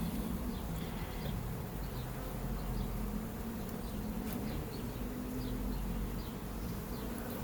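A dense, steady buzz of many honey bees in an open hive fills the clip, close and continuous, with a low hum underneath and no pauses.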